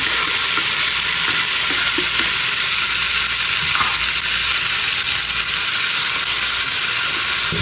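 Garlic-ginger paste and tomatoes fry in a pan with a steady, loud sizzle and hiss that runs unbroken throughout, with no voices over it.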